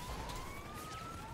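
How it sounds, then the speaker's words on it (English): A police car siren from GTA V wails in a steady rising tone, fairly faint and distant, under a low rumbling game background. "Why is the sirens going weird?"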